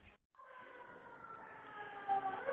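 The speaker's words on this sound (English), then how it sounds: "we have a little bit of an ambulance going by" Ambulance siren passing by outdoors, a steady wailing tone that holds for a couple of seconds and swells louder toward the end, with no talk over it.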